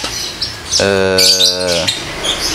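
Caged songbirds kept a few to a perch stand on a home terrace chirp and sing, with a sustained harmonic call in the middle and scattered tweets around it, fairly close and clear.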